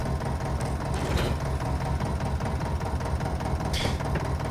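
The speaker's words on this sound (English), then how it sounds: "I love the sound of this tractor so much." Farm tractor engine running during windrowing work, a steady heavy low rumble throughout, loud and close, with faint higher clanks over it.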